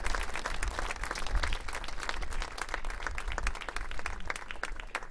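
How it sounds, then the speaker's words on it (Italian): An audience at an international folk music concert gives the violinists a big round of applause, dense continuous clapping from a crowd, steady and fairly loud throughout. "un grande applauso ai violinisti"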